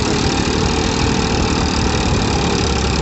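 A Massey tractor engine strains hard while stuck, giving a loud, steady, rough roar that fills the whole stretch without pause.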